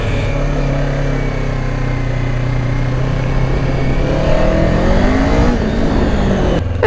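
A Kawasaki Ninja 500 sport bike rides at low speed, its engine a steady close drone with a gentle rise in revs near the end, carried over constant road and wind rush and no talking.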